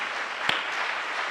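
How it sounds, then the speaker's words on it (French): Audience applause at a forum, a dense steady wash of many hands clapping together throughout the short moment, fairly close and even in loudness, with no voices over it. "On peut vous applaudir, d'ailleurs, pour ces initiatives."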